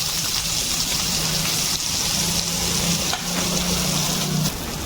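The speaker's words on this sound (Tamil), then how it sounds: "அதில் ஒரு 2 மீடியம் சைஸ் வெங்காயம் கட் பண்ணி வதக்கிக்கிறேன்." Two medium chopped onions sautéing in oil in a kadai, a steady close sizzle with a low hum and occasional soft stirring clicks, no voices.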